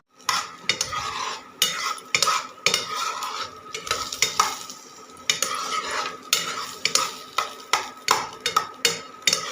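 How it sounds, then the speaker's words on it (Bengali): Onions fry in ghee in a pan while a utensil stirs them. Brisk metallic scrapes and clinks come in a quick, uneven rhythm, close and fairly quiet, over a faint sizzle. "আর তো ভালো করে লালচে করে ভাজতে হবে তো"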